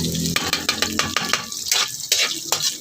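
Pancit bihon rice noodles stirred in a frying pan, a quick run of scraping, clattering strokes in a steady rhythm over a soft sizzle, close and fairly loud.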